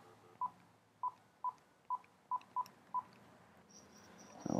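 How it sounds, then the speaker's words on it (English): A VoIP phone dials a mobile number: seven short, evenly spaced DTMF keypad tones in quiet, then a faint higher tone and a brief burst of noise at the end. "I'm going to use my voice over IP phone to contact my mobile phone."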